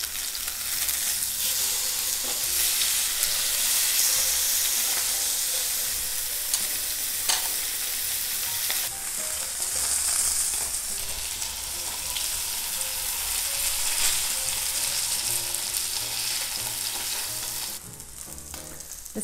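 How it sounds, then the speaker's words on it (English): Salmon fillet sizzling in a pan over medium-low heat, a steady, close, continuous frying hiss that runs unbroken throughout, with occasional faint clicks and a slight drop near the end. "put the salmon in the pan, and in a medium low heat, we wanna cook it until it's brown"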